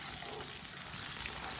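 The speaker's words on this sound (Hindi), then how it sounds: "इसे तकरीबन 6-7 मिनट के लिए फ्राई करना है।" Chicken pakora frying in oil makes a soft, continuous sizzle, faint and even with no talking.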